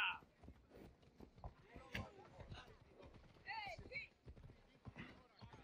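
A horse's hooves clip-clop at a run in the video game Assassin's Creed Odyssey, with a whinny partway through, all under someone talking over the game sounds.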